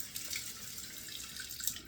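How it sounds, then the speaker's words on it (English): Cold water running steadily from a tap into a sink at a barbershop, a soft, constant hiss with small splashy flickers, fairly quiet and alone. "But let's turn on the cold water."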